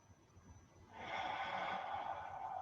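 A deep breath during a stretching session, with a quiet stretch of near silence followed by a long, steady, audible inhale or exhale close to the microphone.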